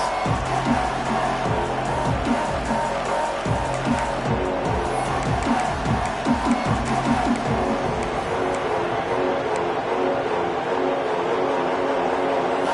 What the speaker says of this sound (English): This crowd unhinged, trying to make sure the Gators don't back down on third down.